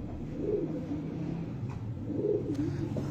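A prized show pigeon coos softly in low, rolling phrases, two cooing bouts close by against faint background noise, with no talking.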